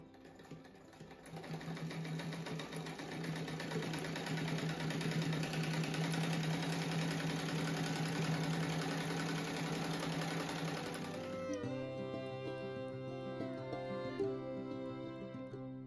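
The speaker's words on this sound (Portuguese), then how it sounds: "depois vou passar o overlock" An overlock sewing machine stitching patchwork quilt pieces runs with a steady, close, buzzing mechanical whir for about ten seconds, then stops and leaves a quieter background tone.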